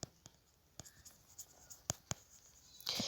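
Marker or chalk strokes on a classroom board during an English grammar lesson: a few sharp, separate taps and short squeaks scattered over quiet moments, then a longer scratchy stroke at the end, close by with no talking.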